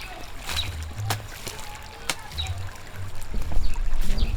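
Irrigation water flows in a steady, gentle trickle from one garden bed into the next, where green beans and impwa are growing, with a soft continuous wash close by and no talking.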